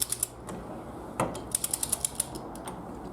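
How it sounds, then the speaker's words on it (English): A breaker bar slowly turns the crankshaft of a Triumph Spitfire engine under restoration, producing sparse mechanical clicks and a few sharper clunks and ratchet-like ticks, close up and quiet. "I've got the breaker bar on the crankshaft here"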